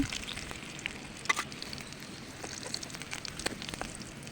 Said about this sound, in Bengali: তেল গরম হয়ে গেল এবার ভাজতে দিয়ে দিলাম কড়াইতে উল্টে পাল্টে ভেজে নিলাম কলাগুলো